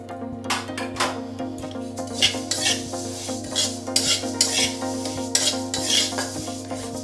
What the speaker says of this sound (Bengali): এবার আমি কড়ার মধ্যে দিয়ে দিচ্ছি সাদা তিলটা